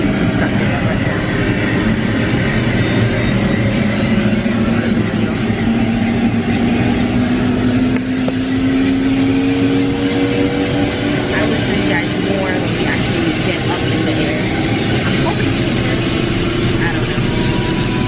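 Helicopter engine running before takeoff over the Grand Canyon, a loud continuous mechanical drone with a slowly rising whine that holds steady throughout, heard from inside the cabin.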